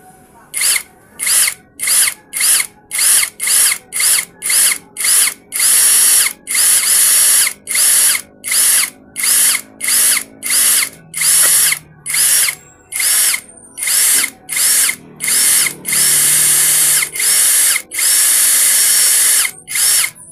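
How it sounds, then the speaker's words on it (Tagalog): A Keelat cordless drill bores into steel in a long series of loud bursts, each whine starting and stopping in quick, uneven pulses with short gaps, some bursts held longer, heard up close with no talk. "Pinukpok ko muna para hindi dumulas habang binubutas natin kasi bakal to"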